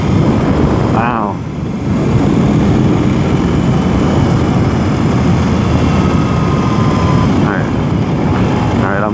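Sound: BMW R 18 cruiser motorcycle engine at 1500 RPM in sixth gear

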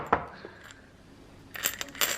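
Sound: loose coins being handled

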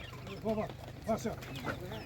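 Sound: chickens clucking

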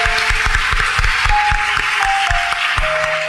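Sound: audience applause at school awards ceremony

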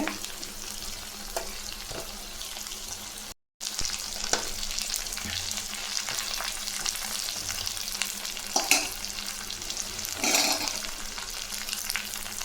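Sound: sautéing drumstick leaves in a pan

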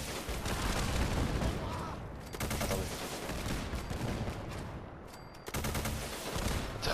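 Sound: modded weapon firing missiles in video game Fallout 4

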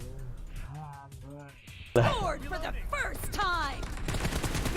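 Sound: gunshots from the video game PUBG Mobile

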